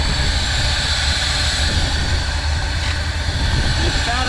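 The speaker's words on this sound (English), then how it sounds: "What you can hear though is that IAC, that idle air control valve, is just sucking air down." A 1970 Ford truck engine idles steadily at close range, a continuous broadband rush and hiss of the idle air control valve sucking air over a low engine rumble, with no talking.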